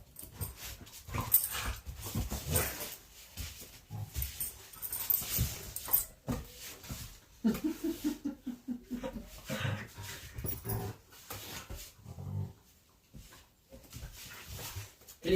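Dogs play and whimper in a living room, with scuffling, panting and short whiny yelps coming and going over about fifteen seconds, close and moderately loud, with a bit of faint talk in between.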